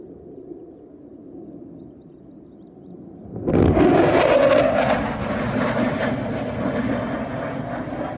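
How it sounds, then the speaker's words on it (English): An F-35 fighter jet breaking the sound barrier: a low rumble gives way to a sudden loud, broad roaring burst midway through, which then sustains as heavy jet noise with no talking. "This is how an F-35 breaking the sound barrier looks."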